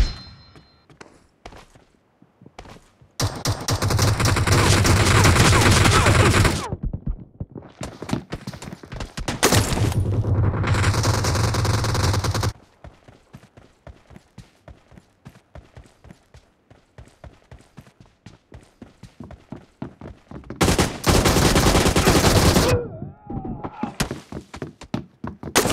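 Automatic gunfire in PUBG, with long loud bursts of rapid shots around 3–7, 9–13 and 21–23 seconds, separated by quieter stretches of scattered single shots and footsteps-like clicks.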